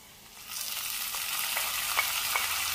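Fried mustard seed tempering is tipped into a raw plantain curry with the stove off, bursting into a loud sizzle that stays steady with a few crackling pops.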